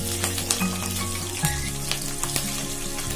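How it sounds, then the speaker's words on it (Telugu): Green chillies spit and sizzle as they hit hot oil for a masala chicken gravy, a steady close crackle with sharp pops and faint metallic clinks, and a low hum beneath. "నెక్స్ట్ గ్రీన్ చిల్లీస్ని యాడ్ చేసుకుందాం. ఆయిల్ మీద పడుతుందండి"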